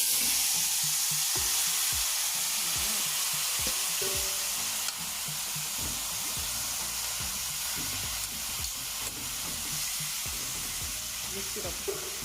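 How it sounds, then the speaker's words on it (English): Curry powder frying in hot oil for Jamaican curry chicken, a loud continuous sizzle close up with repeated clicking scrapes of a spoon stirring through it, no voices. "I'm gonna put some curry to burn in the oil."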